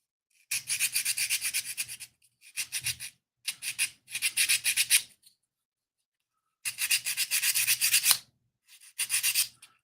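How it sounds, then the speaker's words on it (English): Sandpaper rubs the window of a 1:24 OcCre cable car model in short bursts of scratchy back-and-forth strokes, close and crisp, with brief pauses between passes and a longer gap near the middle. "I am, however, going to sand out the window."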